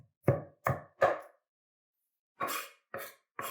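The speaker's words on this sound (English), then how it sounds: "you want to mince them up" A knife minces shallots on a cutting board, giving six sharp, close chops: three in quick succession, a pause, then three more, with no voices.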